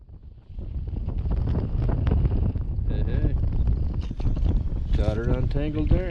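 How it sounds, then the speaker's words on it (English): Wind blows hard across the microphone outdoors while fishing from a boat, a loud rumbling buffet that persists throughout while someone talks over it. "I know the wind's going to be an issue here."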